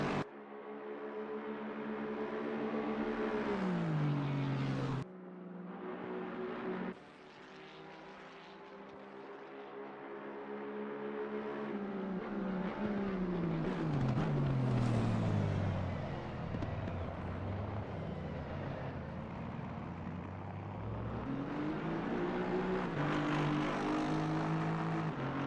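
A 787 race car in a pro-am circuit race at Spa brakes into the final chicane, its engine note dropping and rising through gear changes, loud and sustained with a brief cut and swelling acceleration.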